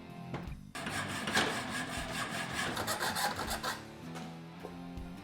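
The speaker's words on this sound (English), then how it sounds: "But when we cut, we want to go inside the grooves, because if we cut on the outside grooves, you could damage the silicone couplers." Steady close rasping of a blade sawing through a radiator hose inside its grooves, part of an upper and lower hose kit on a Ford Roadster, continuous back-and-forth cutting for several seconds with a brief pause near the start.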